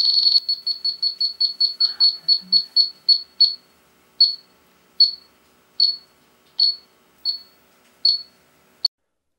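An Elitech LD-100 heated diode refrigerant leak detector sounds its alarm as a string of sharp electronic beeps. They start rapid and evenly spaced, then slow steadily until a final single beep, clear against quiet.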